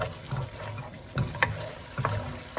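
Curry paste for a Malay fish curry frying in a pan over a medium flame, a steady close sizzle broken by a few scraping stirs, with no talk.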